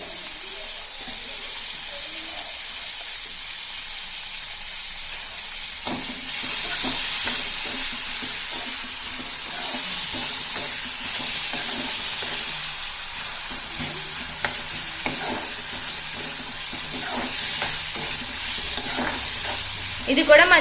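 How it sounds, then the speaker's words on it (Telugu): Tomato and carrot frying in a pan for masala Maggi, a steady close sizzle and hiss with occasional stirring scrapes throughout. "ఇది కూడా మంచిగా వేగనివ్వాలి, ఒక 2 మినిట్స్ వరకు వేగనివ్వాలి."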